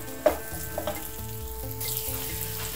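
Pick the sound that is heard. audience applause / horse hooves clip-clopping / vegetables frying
vegetables frying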